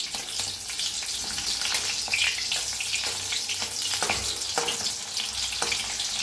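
Green chillies roast in hot oil with a steady, close hiss and crackle that is punctuated by sharper pops and spits, continuous throughout without any talk.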